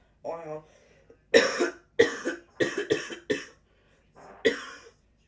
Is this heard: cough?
yes